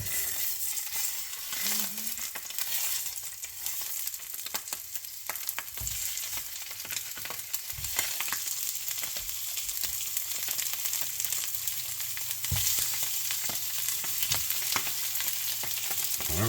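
ALDI beer bratwurst cut into slices fry in a pan with a steady, loud sizzle that fills the whole stretch, broken by occasional clinks and scrapes of a utensil.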